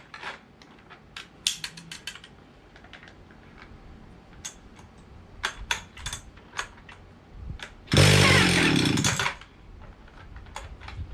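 An antique Stihl 031 chainsaw with a carburetor problem is pulled over with scattered recoil clicks and rattles, then its engine fires for a loud, close burst of a little over a second before cutting out.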